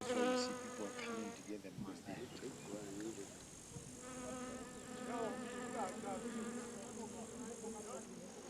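Flies buzz persistently in the African savannah, a thin wavering drone with rising and falling pitch that continues throughout, fairly faint against a soft outdoor background.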